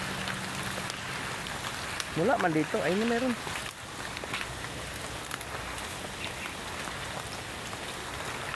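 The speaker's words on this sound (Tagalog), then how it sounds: "Agoy, kalakas ng ulan" Heavy rain pours steadily onto a surface, a dense close hiss that runs throughout, while a person speaks briefly and a short tonal squeak rises above the downpour.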